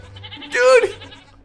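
A goat in the Minecraft video game gives a single short, wavering bleat lasting under a second, heard clearly over faint background sound.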